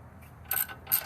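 A ratchet tightening a 12 mm bolt during ball joint work on a 2002 first-generation Toyota Tundra, giving two short, close clicking bursts with a quiet gap between them.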